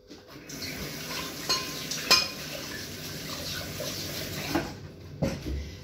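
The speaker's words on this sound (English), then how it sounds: "I'm just going to give my hands a quick wash." Hands washed under a running kitchen tap while cooking flatbreads, water splashing steadily with a few sharper clatters and rubbing sounds, moderately close, no voices.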